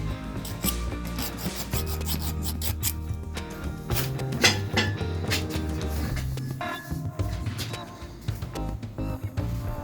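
Metal bearing housing parts being deburred by hand for an MGC GT restoration, a close rasping, filing scrape in repeated strokes with rattly metallic contact throughout.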